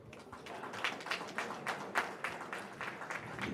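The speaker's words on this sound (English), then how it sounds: "Let's give him a big round of applause." Applause from a modest crowd at a fundraising dinner dance, irregular claps blending into a steady patter, fairly faint and slightly distant.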